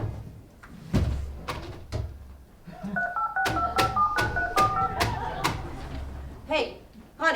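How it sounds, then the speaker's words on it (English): A telephone being dialed for a quick call: a short run of steady keypad tones, close and clear, between clicks and knocks, with voices around it. "I gotta make a quick phone call."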